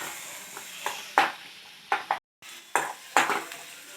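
Spatula stirring onion with turmeric in a pan over low gas, with repeated close scrapes and clinks against the metal and a faint sizzle beneath.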